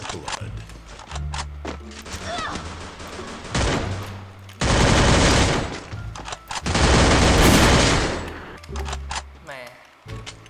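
Bursts of rapid gunfire in the video game Free Fire, dense automatic fire in two loud stretches, separated by quieter gaps with scattered shots and game sounds.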